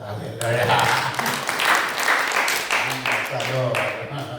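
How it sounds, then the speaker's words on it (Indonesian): Applause from an audience at a question-and-answer session, a steady patter of many hands clapping for a few seconds at close range, with a voice speaking over it. "Jadi tepuk tangan dulu."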